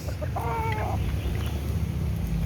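A rooster gives a short clucking call over steady outdoor background noise, close by.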